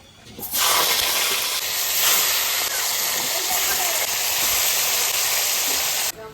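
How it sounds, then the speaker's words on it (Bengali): Hilsa fish heads fry in mustard oil in a wok, starting with a sudden loud, steady hiss that holds for several seconds and then cuts off abruptly near the end. "ইলিশ মাছের মাথাগুলো এখন ভেজে নেব।"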